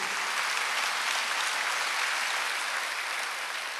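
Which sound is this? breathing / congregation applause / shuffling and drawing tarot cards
congregation applause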